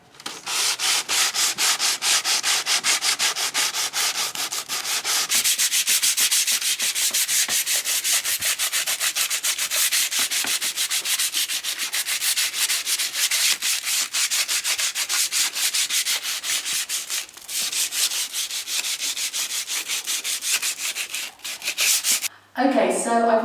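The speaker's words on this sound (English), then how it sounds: "I've now lovingly sanded my table down" A wooden garden table is sanded in a long, steady stretch of close, gritty rubbing with a fast rhythmic scratching texture, briefly interrupted near the end.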